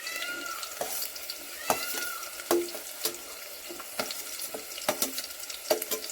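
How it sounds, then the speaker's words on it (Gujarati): Onions added to oil for biryani over an outdoor clay wood-fire stove, a steady frying sizzle with repeated clinks and scrapes of a stirring utensil, close and without talk. "હવે નાખીશું આપણે ડુંગળી."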